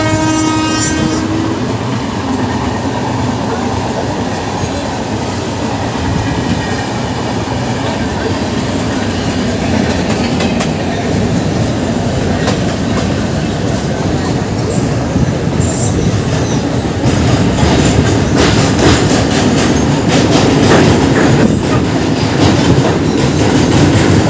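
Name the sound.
Shalimar Coromandel Express train running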